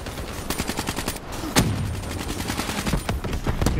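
Rapid gunfire bursts in Call of Duty: Black Ops 3 multiplayer Domination, loud, close rattling volleys in quick succession, with a heavier single blast partway through and a renewed burst at the end.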